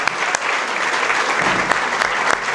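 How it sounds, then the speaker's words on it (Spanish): Audience applause at a university talk on journalism and ethics, a dense, close burst of clapping filling the room at a steady level for a couple of seconds. "Un gran aplauso para Carmen."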